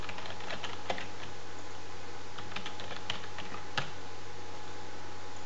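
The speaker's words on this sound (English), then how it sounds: "I'm going to put in my username and my password." Username and password being typed on a computer keyboard, with a quick, irregular run of close key clicks and a few sharper taps over a low steady hum.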